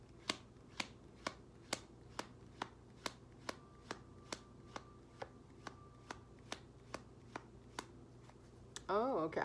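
Tarot cards being shuffled by hand, a run of crisp, evenly spaced snaps at about two per second, close and clear over a quiet room, ending in a brief flurry of riffling.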